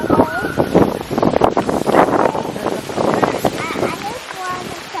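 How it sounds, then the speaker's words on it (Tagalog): Outdoor wind buffeting a microphone, producing loud, continuous low rumbling gusts that nearly drown out a person talking the whole time. "Medyo mahangin, guys."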